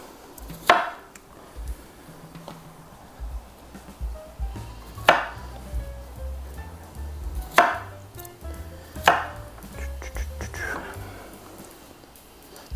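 A knife cuts sweet potato into chunks on a board, producing several sharp, close chops spaced a couple of seconds apart, with quiet kitchen rustling and a low voice between the cuts.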